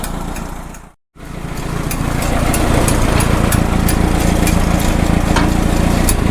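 A one-of-a-kind Minneapolis-Moline prototype crawler tractor engine runs close by. The engine cuts out for a moment and then settles into a loud, steady, rough drone with a rapid chugging pulse and light clanking.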